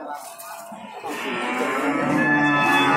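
A Limousin cow bellows a long, loud moo at a livestock market in Prambanan, Klaten, the call swelling and holding strong near its end, close to the recorder.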